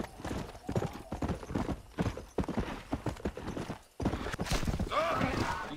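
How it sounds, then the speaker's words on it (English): Horse hooves clip-clop steadily in the Western video game Red Dead Redemption, with a brief whinny-like cue, while players talk over the galloping rhythm throughout. "check if you can get in my horse."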